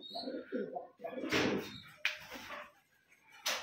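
Simi pigeons, a breeding pair with their young, give a few low throaty coos close by, interrupted by short bursts of wing flutter or movement.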